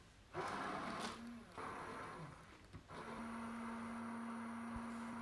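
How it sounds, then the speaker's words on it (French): A blender mixes plain yogurt sauce with garlic and mustard, whirring in a few short bursts and then running steadily with a high motor whine, close by and quiet. "Je vais bien mixer le tout."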